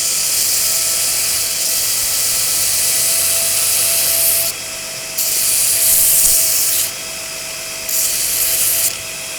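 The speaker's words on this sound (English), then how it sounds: "I quickly and discreetly come over to the grinder and clean up these horrible welds" Angle grinder cleaning up rough welds on steel butcher dies for a 12-ton coal iron press, a steady loud abrasive hiss that runs continuously, with brief dips where the disc lifts off the metal.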